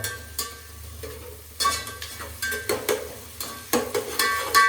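Blood fry with onions sizzles and crackles in a pan. A spatula scrapes and taps against the metal in repeated bursts over a soft, continuous frying hiss, close by and with no talking.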